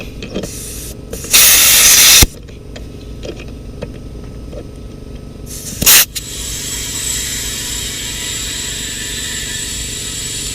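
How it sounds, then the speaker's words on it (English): Loud bursts of hissing air from inflating small golf cart tires, followed by a steady mechanical drone of a running air compressor that continues in the background. "You can probably hear my compressor growing in the background."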